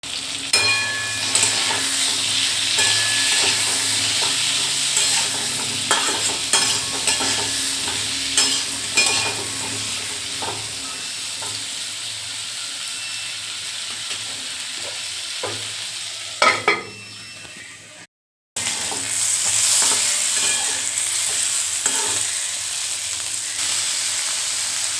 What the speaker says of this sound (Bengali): আলু আর পনিরটাকে নুন হলুদ দিয়ে ভালো করে লাল লাল করে ভেজে নিচ্ছি